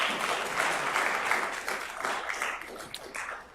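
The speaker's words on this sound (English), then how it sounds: "Can we give them a big round of applause, please?" Applause for speakers at an intellectual property conference, a quiet, somewhat distant burst of clapping that stays fairly steady and then tapers slightly toward the end.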